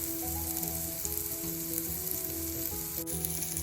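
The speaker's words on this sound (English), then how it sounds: "Hear the sizzle?" Shrimp pieces sizzle steadily in a pan with red pepper, celery, garlic, thyme and smoked paprika, a close, continuous frying hiss with a brief sharper crackle near the end and no talking.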